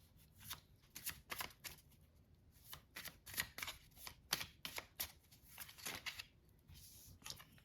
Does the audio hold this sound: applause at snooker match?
no